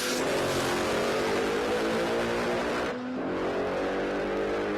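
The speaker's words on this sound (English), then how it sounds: "And that Mustang makes some noise." A manual-class Ford Mustang drag car with a ProCharger blasts loud and close at a drag strip, its engine roaring steadily at high revs, dipping briefly, then pulling hard again.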